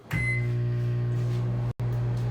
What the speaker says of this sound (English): And I'm going to microwave it.